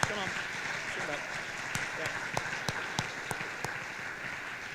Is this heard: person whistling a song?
no